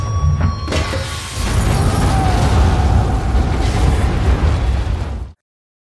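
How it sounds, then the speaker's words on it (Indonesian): A gas cylinder explodes indoors in a film scene: a loud blast erupts after a brief moment, followed by a long roaring, rumbling burst of debris and fire that cuts off abruptly. "memicu ledakan pada tabung gas yang telah dipasang Kozlov sebelumnya"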